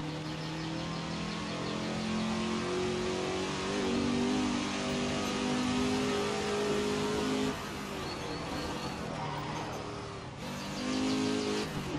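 A Ford GT40 on vintage slick tyres runs a lap in the racing game Assetto Corsa, its engine revving and droning steadily with rising and falling pitch through gear changes.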